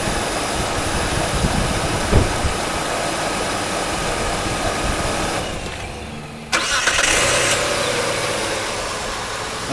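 A car engine runs, goes quiet briefly as it is switched off, then cranks and restarts with a sudden loud surge before settling into a steady idle, alone without talk.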